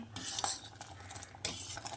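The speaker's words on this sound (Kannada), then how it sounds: "ಈಗ ಇದಕ್ಕೆ ಹುರಿದಂಥ ರವೆ ಹಾಕೋದು ಹಾಕಿ ಚೆನ್ನಾಗಿ ಮಗಿಸ್ತಾ ಇರಬೇಕು" Roasted semolina stirred into boiling jackfruit payasa, a metal spoon scraping and clinking against the pot in quick strokes, close and distinct.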